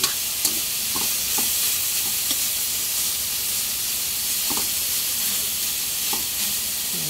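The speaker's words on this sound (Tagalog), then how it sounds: "Medyo iprito-prito natin sa konti para masarap-sarap." Chicken sizzles and hisses steadily as it fries in a hot pan, with occasional light scraping taps from stirring.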